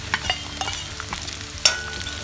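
Chopped onions hit a pan of grated ginger and green chilli, frying with a bright sizzle while a spoon stirs in quick scraping strokes, close and clear, one sharper clack near the end.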